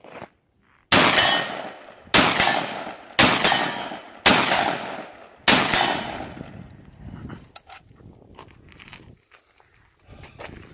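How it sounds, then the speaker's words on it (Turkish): A 12-gauge shotgun fires five loud, close blasts at a steady pace, each with a sharp crack and a ringing decay, followed by quieter clatter and handling noise. "Doyamadım bir şarjör daha atayım"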